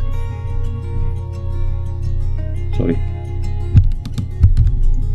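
Computer keyboard keys tapped while editing programming code with Ctrl+X cut shortcuts, a few sharp clicks over a steady low hum and a talking voice.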